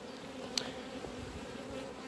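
Honey bees buzz at the hive during treatment of a first swarm, a steady low drone running through the whole stretch with a brief sharper tick near the start, no talking.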